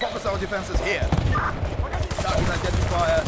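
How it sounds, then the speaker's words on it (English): A machine gun fires in the video game Battlefield 3, aimed at a Bradley vehicle: dense, rapid crackling bursts run without pause, loud and close, with a voice partly mixed in. "Shooting my machine gun at the Bradley like a boss"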